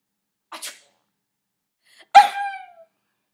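A single sharp sneeze rings out, preceded by a short soft intake of breath, then a brief voiced tail, isolated against silence.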